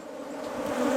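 Honey bees buzz steadily at a hive, a dense, continuous hum that swells slightly louder toward the end, with no talk.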